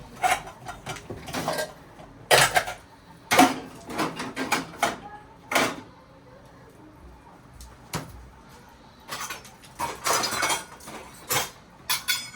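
Dishes, pots and cutlery being washed by hand in a home kitchen, with close, sharp clinks and clatters arriving in irregular bursts separated by brief quiet moments.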